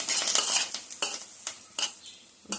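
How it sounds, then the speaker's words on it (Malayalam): Grated coconut goes into hot oil in a clay pot with a bright hiss at first, then a few sharp, separate scrapes and clinks of a spoon against the pot as it settles. No speech. "എണ്ണ ചൂടായിട്ടുണ്ട് ഇതിലേക്ക് നമ്മൾ കുറച്ച് തേങ്ങ ഇട്ട് കൊടുക്കണം"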